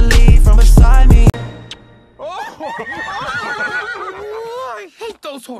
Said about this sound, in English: I hate those horses.